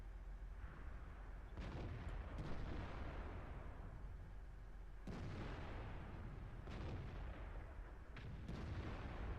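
A tank gun fires in World of Tanks, several deep booming blasts at spaced intervals, each trailing into a rumbling decay over a steady low background.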